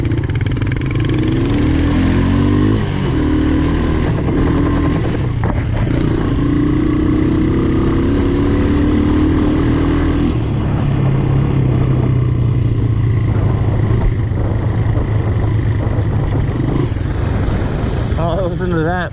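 Honda TRX ATV engine revving hard as it breaks through crusted snow, loud and continuous with rising and falling pitch, while people talk excitedly over it.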